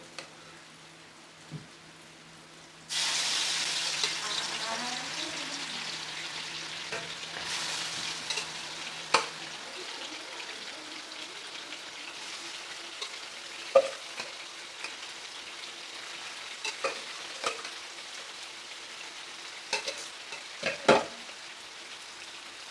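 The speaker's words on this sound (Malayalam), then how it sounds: "മീൻ വറുത്ത് കോരാനാണ് കേട്ടോ" Tuna pieces for a fish pickle hit hot sesame oil in a pan after a quiet start, breaking into a steady, loud sizzle with occasional sharp spatters and pops.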